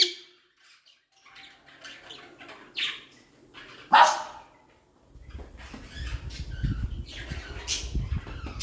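Peacock letting out a loud, harsh squawking call near the middle, set among other scattered bird chirps and squawks, followed by a rumbling low background noise.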